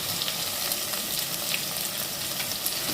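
Tomatoes sauteing in a pan, a loud continuous crackling sizzle with light spattering pops throughout, close up and with no one talking.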